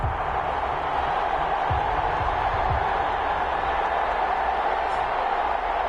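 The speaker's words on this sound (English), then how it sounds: "This crowd is ready as their guys get set to match up between the Tampa Bay Buccaneers and the New Orleans Saints." A stadium crowd in Madden 21, at a Tampa Bay Buccaneers versus New Orleans Saints game, keeps up a steady roar of cheering, a dense and continuous wash of noise with no voices standing out.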